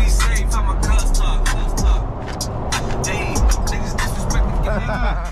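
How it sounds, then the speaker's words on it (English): A car engine runs steadily while the car is being driven, a continuous low rumble with road noise heard from inside the vehicle, with a person talking over it. "Car's still running good."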